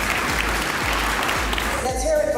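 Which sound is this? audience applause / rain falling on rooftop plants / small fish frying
audience applause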